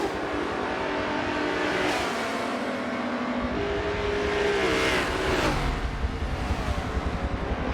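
Race cars lapping Mugello in Forza Motorsport 7, a Mercedes chasing a Lotus onto the straight: several engines roar and rev at high pitch, with a car sweeping past midway and steady engine drone throughout.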